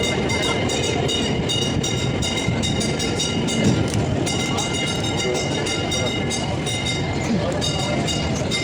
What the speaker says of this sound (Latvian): Mazais tramvajiņš brauc.